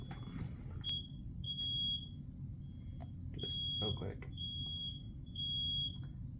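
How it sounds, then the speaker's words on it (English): A kitchen smoke alarm, set off by cooking, sounds repeated shrill beeps in an uneven pulsing pattern, loud and nearby, while a person talks briefly over it and household noise fills the background. "These alarms are super sensitive"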